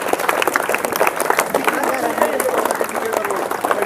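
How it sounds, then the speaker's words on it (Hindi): A school audience claps to welcome two young girl students at a gathering, a dense patter of hand claps with voices speaking over it. "तो मैं चाहूँगा कि आप लोग उन 2 लड़कियों का तालियों से स्वागत करें।"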